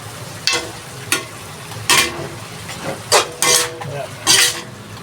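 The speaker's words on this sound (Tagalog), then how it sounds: "Pero haluin ko pa rin." Chicken bistek Tagalog sizzles in a pan while a utensil stirs it. Several distinct scraping sweeps come in irregular bursts over the steady frying hiss, close and fairly loud, with no talking.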